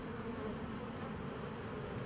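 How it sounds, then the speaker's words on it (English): A dense swarm of honeybees buzzing steadily and continuously at close range, a constant droning hum with no pauses or voices. "With buzzing bees hard at work, plants are being pollinated"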